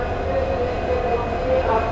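Steady low rumble and hum of a train locomotive idling at the Cox's Bazar station platform, continuous and fairly close, with no voices.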